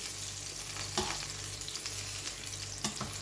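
Eggplant pieces frying in a pan until brown give a soft, steady sizzle, with a couple of brief scraping stirs standing out; no one speaks.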